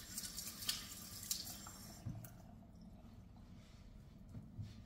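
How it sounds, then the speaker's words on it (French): Tap water runs into a kitchen sink as hands are washed, a soft splashing flow with small drips and squishes, fairly quiet and close, without speech. "Je me lave les mains."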